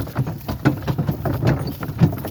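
Hooves clop in a quick uneven patter, several heavy draft horses trotting close by in a pasture field, with faint rattling of a chain in between.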